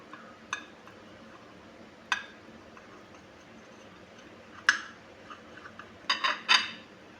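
A knife cuts through an egg omelette on a plate for a bread-slice burger, giving a few sparse, sharp clinks spaced apart, then a quick cluster of taps near the end, with no talking.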